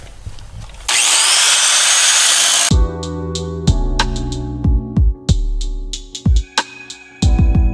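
An angle grinder screams loudly for about two seconds, grinding down rivets on the old, rotten frame of a 1965 Chevy Nova. Sharp metallic clanks and ringing hammer strikes against the steel follow.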